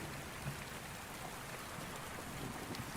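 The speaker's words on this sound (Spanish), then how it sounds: "no se escuchó otra cosa más que la lluvia golpeando el techo del barracón y el retumbar lejano de los truenos" Soft, steady rain drumming on a barracks roof, faint and continuous with a low distant rumble of thunder underneath, no voices present.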